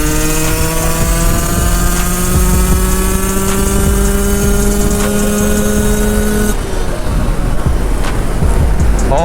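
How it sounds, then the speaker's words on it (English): A 2-stroke 125cc motorcycle held at full throttle on a highway gives a loud, steady high-pitched engine whine that climbs slightly, with constant wind roar. Near the end the engine note drops away and mostly wind rush remains. "now let's max out the bike."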